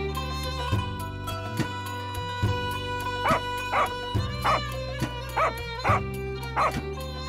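Repeated dog barks and yips over a steady musical background in a children's stage play, several short bursts in the second half, moderately loud.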